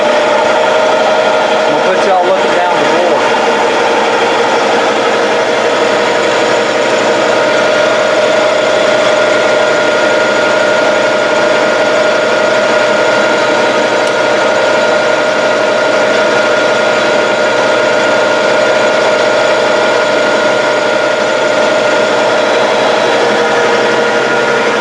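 A Jeep XJ engine runs with a steady, droning mid-pitched hum that stays fairly even and loud throughout, with no clear rise in revs.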